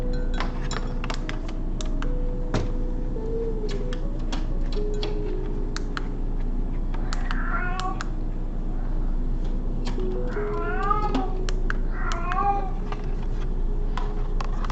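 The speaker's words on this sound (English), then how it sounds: "And there goes the cat." A house cat meows several times, drawn-out calls clustered in the second half, heard indoors during a live stream over steady keyboard typing clicks and a constant low background hum.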